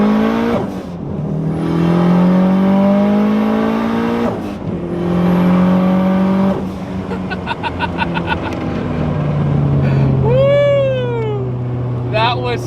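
Toyota MR2 accelerating hard, engine note climbing through gears in repeated surges with short pauses between shifts, loud and close from inside the car, with tire or whine tones near the end and people talking excitedly over it.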